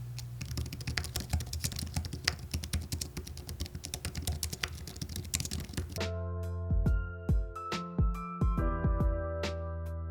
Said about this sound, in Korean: 저소음 족축 소리는 크진 않지만 펜타그래프 키보드만큼의 정숙성은 아닙니다.